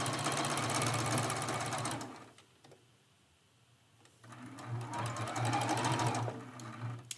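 A sewing machine stitches a quilt seam in two stretches of fast, steady needle hum and chatter, separated by a quiet pause of about two seconds.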